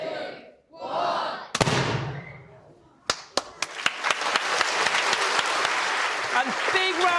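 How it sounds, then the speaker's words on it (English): A studio audience erupts after a countdown and big red button press, cheers and shouts first, then a loud burst followed by sharp claps swelling into sustained applause mixed with crowd noise. "And big round of applause for PE teacher Chris."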